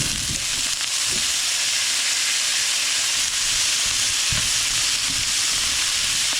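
Bok choy frying in oil with garlic in a pan for shrimp pad thai, a loud, even, continuous sizzle and hiss with a few soft knocks underneath.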